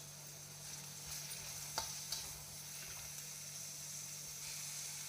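Onions fry in oil in a pan for an Indian-style broccoli fry, a faint, steady sizzle with a low hum beneath and a couple of soft stirring knocks.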